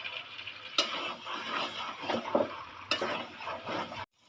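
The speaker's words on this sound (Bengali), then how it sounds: "আমি মাংসটা ভালো করে কষাতে থাকছি যতক্ষণ না মাংস থেকে তেল ছাড়বে" Marinated mutton sautés in hot oil in a kadai, with a constant sizzle punctuated by several sharp scraping stir strokes against the pan, close and fairly loud, ending abruptly.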